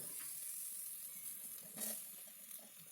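Ginger-garlic paste and turmeric fry quietly in a pan over low flame for a drumstick curry, giving a soft, steady sizzle with a brief louder burst of hiss near the middle.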